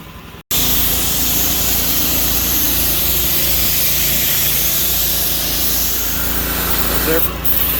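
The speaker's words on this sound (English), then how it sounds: "Sprays both surfaces as a contact adhesive." Aerosol can of 183 contact adhesive sprayed steadily onto both surfaces during RV roof repair, a loud continuous hiss that starts abruptly after a brief pause and runs nearly unbroken to the end.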